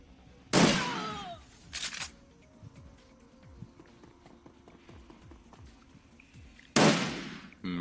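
Shotgun blasts in the video game Shadowrun Returns: a loud, sharp report near the start, a shorter second shot soon after, and a third heavy blast near the end, with quieter footstep-like ticks in between.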